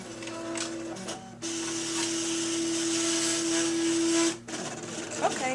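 A Cricut Imagine machine cutting paper runs with a steady mechanical whir and a sustained tonal hum that cuts out abruptly near the end. A voice is briefly audible at the close.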